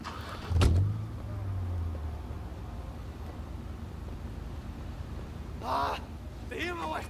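A car in the open-world crime game Sleeping Dogs starts with a loud low burst, then holds a steady engine drone, with brief voices cutting in later over the traffic noise.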